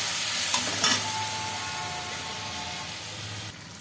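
Water poured into a hot pan of chopped green chillies hisses and sizzles close by, with a few stirring scrapes early on and steady frying noise before it drops off near the end.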